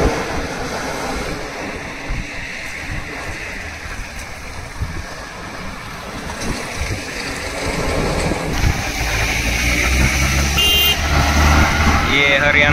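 A loaded six-wheel Ashok Leyland truck carrying bricks labours up a hill road with a deep, rumbling engine drone. The sound grows heavier and louder toward the end, and someone talks over it.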